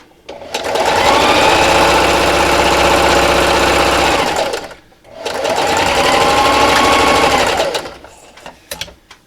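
A sewing machine runs steadily, stitching the seam of a fabric wine gift bag, in two long loud bursts separated by a short pause, then stops.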